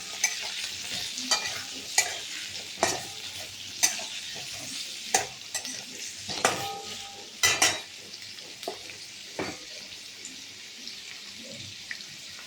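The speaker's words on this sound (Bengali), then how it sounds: "আলুটাকে একটু ভাজা করে নেব।" Potatoes fry in a pan with onion and green chilli, a steady sizzle running throughout while a utensil scrapes and stirs in sharp, regular strokes about once a second, close and fairly loud with no talking.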